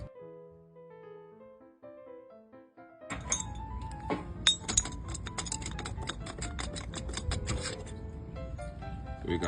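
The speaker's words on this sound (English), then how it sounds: "Next is using a size 13 wrench to get the cylinder head off." A size 13 wrench works a cylinder head off a motorized bike engine, with a run of sharp metallic clinks and ticks up close. Quiet tonal sounds come first.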